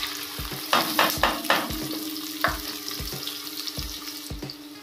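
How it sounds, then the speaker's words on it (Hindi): Onions sizzle and crackle in hot oil in a pan on a gas stove, a steady frying hiss broken by several loud clattering stirs in the first two seconds and a few softer scrapes later, with no talking. "तेल गरम होते ही सबसे पहले डाल देंगे प्याज,"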